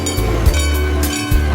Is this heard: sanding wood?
no